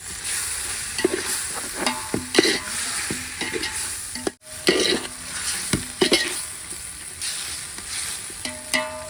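Tomatoes sizzle steadily in a hot pan while a utensil stirs and scrapes them in repeated strokes, close and fairly quiet.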